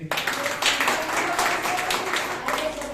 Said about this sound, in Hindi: सिस्टर पार्वती ने गाड़ी लिया, उसके लिए ताली बजाएंगे।